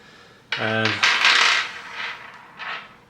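Four PVD-coated metal screws for kiteboard bindings drop and clatter together in the hand, a bright ringing jingle followed by a few softer metallic rattles, close and clear with no talk.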